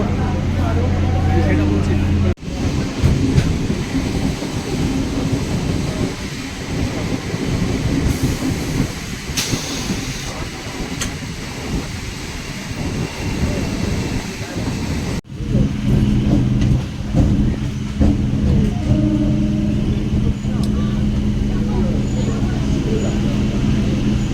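A local train on the Basirhat to Sealdah line runs steadily, its loud continuous rumble and rattling carriages filling the scene with a couple of sharp jolts, while voices murmur faintly among the onboard noise.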